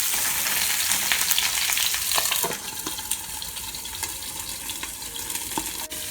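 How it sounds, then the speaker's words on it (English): Smoked sausage frying in a pot for New Orleans-style red beans and rice, a steady loud sizzle with bright crackling and occasional spatters, continuous throughout with no talking. "now we're going to add in our smoked sausage"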